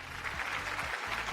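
A TV game show's studio audience claps for a contestant who has just won a round, a brief, faint, continuous patter of applause.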